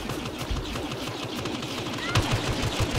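Blaster gunfire in Star Wars Battlefront, rapid repeated shots in a dense burst with rhythmic pulses toward the end, mixed with game noise and some speech.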